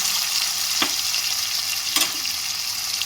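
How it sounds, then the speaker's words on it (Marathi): Tomatoes sautéing in a pan with ginger-garlic paste for a black-masala chicken curry, giving a steady close sizzle, with two brief scraping stirs about a second apart and no talk. "टोमॅटो टाकायचं मऊ होईपर्यंत परतून घ्यायचं"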